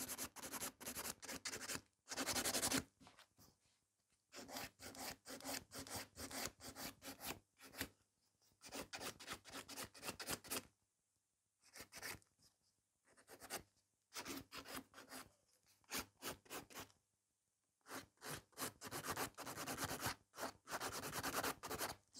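Acrylic nails being filed with a hand file in short rasping bursts of strokes, separated by pauses, faint and close, with no talking.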